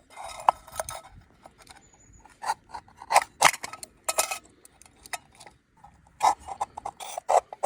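A vegetable peeler shaves wood for fire-lighting tinder, making a series of short, sharp scraping rasps in irregular bursts with small knocks between strokes, close and distinct, without speech.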